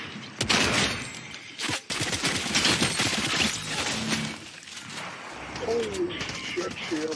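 Sniper rifle shots ring out in a Fortnite squad match, sharp, loud cracks in a quick burst early on, then scattered gunfire and game noise, with a voice briefly heard near the end.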